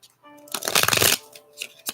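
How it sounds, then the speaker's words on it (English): A deck of tarot cards being shuffled gives one brisk riffling burst of about half a second, close and crisp, with a voice speaking before and after it. "We're shuffling for JJ."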